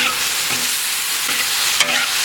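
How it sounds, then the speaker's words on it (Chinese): Meat stir-fried with white chili peppers in a wok, a steady close sizzle with scraping stirs and a few clinks of the spatula, no talking. "先给它炒一下。"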